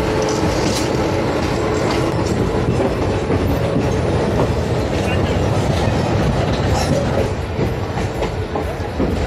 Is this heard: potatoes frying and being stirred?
no